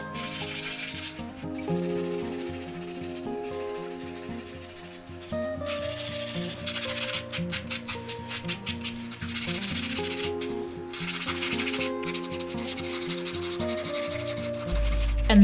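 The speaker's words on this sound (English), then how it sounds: "This will allow me to wet sand and polish them to perfection." Wet sanding of porcelain ball-jointed doll parts by hand, a rhythmic gritty rubbing that repeats in quick back-and-forth strokes, close and fairly loud, with bursts of faster scrubbing and no voices.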